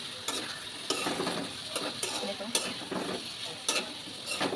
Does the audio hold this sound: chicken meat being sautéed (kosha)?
yes